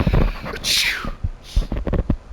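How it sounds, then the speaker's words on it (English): A single sharp sneeze bursts out up close, a breathy hiss sweeping downward, followed by quieter rustling and soft movement. "Hold on, think I'm gonna sneeze."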